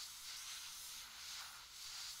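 Firefighter's hose in the Flashing Lights emergency simulator, fed from a hydrant, sprays water onto a fire as a steady soft hiss that swells and eases in gentle waves, faint and alone.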